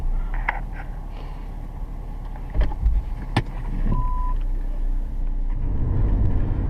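A Ford FG Falcon XT used car sets off on a test drive, with a low, steady engine and road rumble and a few sharp clicks and knocks over it, fairly close and with no one talking.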